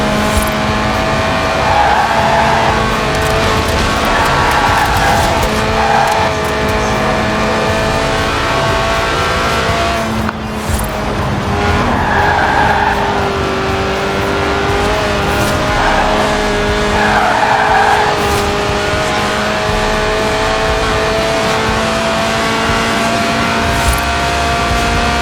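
A Lotus race car's 1.8-litre, 190-horsepower engine, revving to 8,000 RPM in the video game Forza Horizon 4, revs high and hard, its whine rising and falling in repeated surges with tire noise underneath, loud and continuous throughout.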